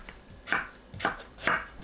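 A knife slices pitted apple jujubes into thin rounds on a cutting board, three crisp, evenly spaced cuts, close and clear with no talking.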